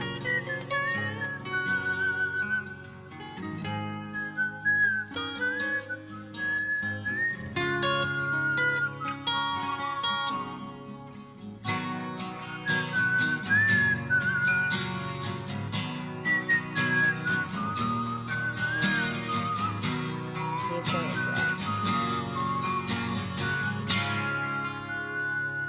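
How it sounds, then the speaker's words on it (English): A rock ballad plays, with a clear melodic whistle carrying the tune above guitars throughout the passage. "whistling in a rock song is not that common"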